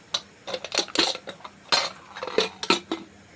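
Metal clinks and scrapes as a lid settles onto a pot while making ghugni, a few sharp knocks and rattles spread through the clip with no talk.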